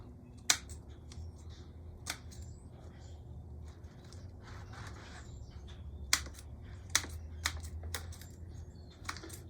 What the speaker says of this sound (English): Just trimming again some of the long ones that have been untangled.